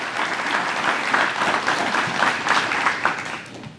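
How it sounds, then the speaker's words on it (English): An indoor audience at a Hall of Fame induction ceremony claps steadily for the music department's band. The applause is dense, loud and even for the whole stretch, then thins slightly at the end. "give them a huge round of applause for them being here tonight"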